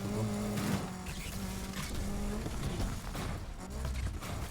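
A car engine with turbo in the video game Need for Speed Unbound drones steadily with shifting pitch, layered with whirring and hissing turbo effects.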